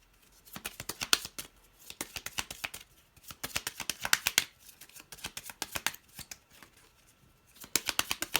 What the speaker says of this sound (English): I need to rearrange my cards